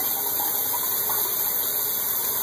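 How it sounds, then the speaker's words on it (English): Water runs steadily into a washing machine drum that keeps backing up, a constant broadband rushing hiss with a low mechanical hum underneath, close and unbroken throughout. "Let's run the water again and see what happens."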